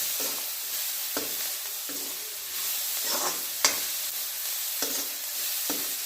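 Green peas roasting and being stirred in a pan give a steady dry sizzle, punctuated by several sharp scrapes of the spoon against the metal at irregular intervals, close and moderately loud with no voices.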